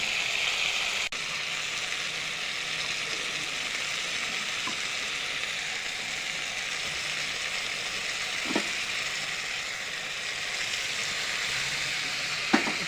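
A steady, dense sizzle of fish, drumsticks, tomato and potato frying in a pan carries on throughout, with a couple of faint clinks, and nobody talks.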